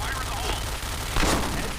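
Rapid gunfire from a first-person shooting video game, a dense burst of shots with a louder cluster near the end, heard against a steady background.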